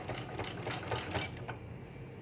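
A sewing machine runs steadily, stitching along the folded fabric of a baby skirt beside the elastic, with a continuous whirring hum and faint clicking for a couple of seconds.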